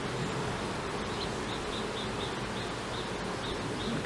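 A honeybee swarm settled in a swarm trap hums in a steady, dense buzz that stays close and even, with a few brief higher buzzes from single bees flying past.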